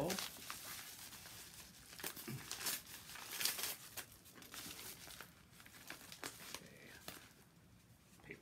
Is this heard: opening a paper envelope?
yes